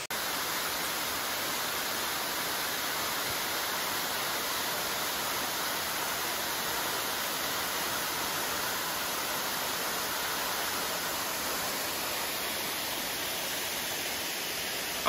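Piney Creek Falls, a waterfall dropping roughly 40 to 50 feet into a creek, roars as a steady, dense wash of rushing water, constant and loud throughout with no pauses or voices.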